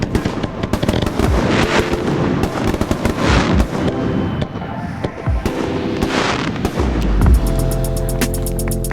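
Three fireworks cakes fire together after being linked with a fast fuse, a dense, loud barrage of rapid cracks and booms with crackling bursts that runs throughout, then a sharp cluster of pops near the end.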